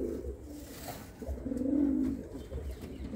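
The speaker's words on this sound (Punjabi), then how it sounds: "ਚਿੱਟੀਆਂ ਦੀ ਕਬੂਤਰੀ ਹਜ਼ਾਰ ਵਾਲੀ ਅਤੇ ਚਿੱਟੀਆਂ ਦਾ ਹੀ ਕਬੂਤਰ ਆ" White pigeons coo softly in a pair, low repeated throaty calls swelling and fading at close range, fairly quiet with no talking.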